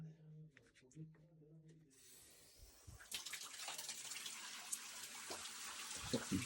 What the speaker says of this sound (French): La douche froide, c'est pas le meilleur truc.